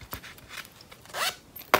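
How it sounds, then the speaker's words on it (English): The zipper pocket on a handmade ID holder is opened in a few quick, soft, close rasping pulls, with brief pauses between them. "now you open up your zipper pocket"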